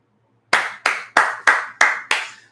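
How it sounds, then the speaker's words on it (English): Six sharp hand claps arrive at a steady, even pace, each one crisp and close with a quick decaying tail, after a half second of quiet and with no voices. "that's terrible that I clap for that"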